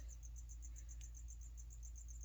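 Feeder crickets chirp inside a tarantula enclosure, a faint, steady run of rapid pulsed trills over a low background hum.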